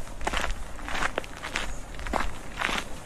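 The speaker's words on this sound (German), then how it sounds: "Die Schritte hören sich auch irgendwie komisch an." Steady crunchy footsteps from a character walking in Euro Truck Simulator 2, close and regular, about five or six paces with a faint hiss behind them.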